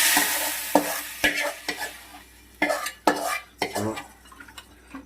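Stirring fried onion and gravy into a pot of mutton head curry, with a spoon scraping and clinking against the pan in about eight distinct strokes under a soft background hiss; no talking.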